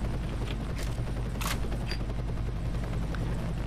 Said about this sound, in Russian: Все, наш вертолет садится.